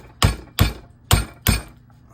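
Four sharp metallic strikes of a hammer on a chisel, wedged between a power adapter's transformer and circuit board, ring out close by, in two quick pairs with brief pauses between.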